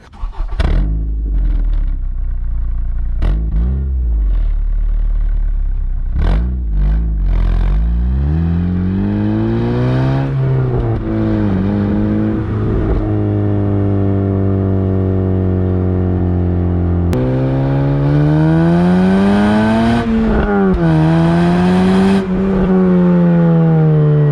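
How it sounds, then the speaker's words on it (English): A Honda Civic Si with a Skunk2 Mega Power aftermarket exhaust cranks up, then revs repeatedly, climbing and falling in pitch with a deep, raspy roar, close by. "Let's see this Megaflow exhaust."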